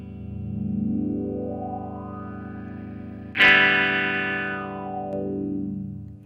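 A wah pedal sweeps a guitar tone up through the highest frequencies and back down, a steady hiss underneath and a sharp bright surge midway through, played alone with no talk.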